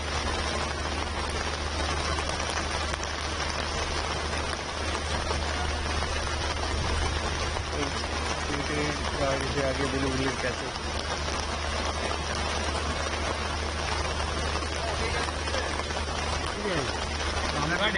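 Heavy rain pours down during a windstorm in Delhi, a dense, steady hiss of drops on surfaces lasting throughout, loud and close, while people speak briefly over it.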